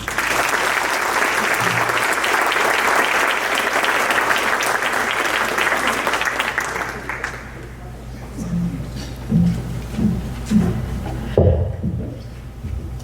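Sustained audience applause at an award ceremony in a school cafeteria, a dense, loud wash of clapping for several seconds that fades out, followed by scattered murmurs and a voice beginning to speak.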